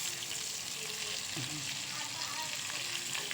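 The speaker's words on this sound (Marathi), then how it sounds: "आता आपण ना ही उलटी पालटी करून घेऊ तर चला आता मी ना चिमट्यानेच घेते" Bitter gourd frying in oil in a pan and turned over with tongs, a constant loud sizzle with a faint clink or two of the tongs, close up.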